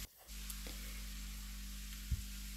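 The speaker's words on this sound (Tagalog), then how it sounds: "Ginisa lang." Sliced carrots sautéing in a pan as a side dish, giving a steady, soft sizzle throughout with a faint clink near the end and no talking.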